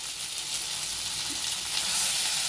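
Fish frying in a pan at home, a steady bright sizzle with soft crackle running evenly throughout, fairly close and alone with no voices.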